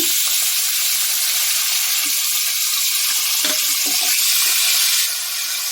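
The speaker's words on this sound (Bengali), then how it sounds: "এবার আমি এই তেলের মধ্যে দিয়ে দিচ্ছি পটল ভাজার তেলে মাছগুলো ভেজে নেব" Ganges prawns drop into hot oil left from frying pointed gourd, giving a loud, dense, continuous sizzle that eases slightly at the very end.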